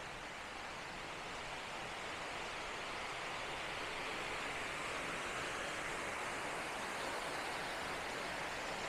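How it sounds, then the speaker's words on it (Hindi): Badaghagara Waterfall in Keonjhar, Odisha, produces a constant, even roar of falling water, a steady broadband rush heard from a distance with no voices over it. "और इस तरफ है आपका वाटरफॉल।"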